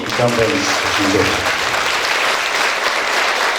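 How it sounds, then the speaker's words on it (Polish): Full, continuous audience applause at a Polish cabaret evening in 2013, with a voice speaking briefly underneath at the start before the clapping carries on alone. "wielkie brawa, Andrzej Poniedzielski"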